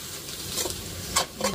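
Egg frying and being stirred into paan kothu in a pan: a quiet sizzle runs under a few faint scraping strokes and light clicks of the utensil.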